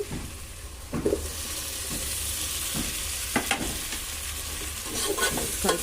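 Tomatoes fry in a pot for mutton biryani, a constant close sizzle broken by several scraping stirs of a spoon against the pot, with no talk.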